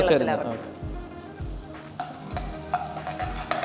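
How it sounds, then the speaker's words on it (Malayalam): Sliced onion, ginger, garlic and small coconut pieces sizzle steadily in a pan while being stirred, with a spatula scraping and knocking the pan in a loose rhythm every half second or so, close and fairly loud, no talking. "സവാളയും ഇഞ്ചിയും വെളുത്തുള്ളിയും തേങ്ങാക്കൊത്തും ചെറിയ ഉള്ളി എല്ലാം നല്ലതായിട്ട് വഴട്ടിയെടുത്തോണ്ടിരിക്കുകയാണ്"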